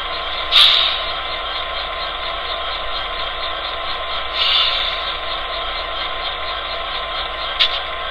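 Short sharp air hisses from a Tsunami2 diesel locomotive sound decoder's independent air brake, heard three times as separate bursts over a steady idling engine drone, fairly close and clear.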